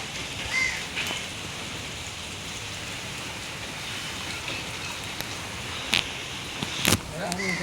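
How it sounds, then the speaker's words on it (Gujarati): Heavy, unrelenting morning rain falls with a steady dense hiss, broken by a few sharp nearby drips and taps toward the end. "વરસાદ પણ જોરદાર સવારનો એક ધારો આવે છે, બંધ થવાનું નામ જ નથી લેતો"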